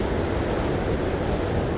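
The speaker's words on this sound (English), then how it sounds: "these waves are crazy" Ocean waves surging in a steady broadband wash of surf, loud and close, with wind buffeting the microphone and no voices.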